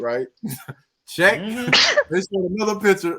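A single sharp sneeze bursts out in the middle of a casual podcast conversation, surrounded by people talking before and after it.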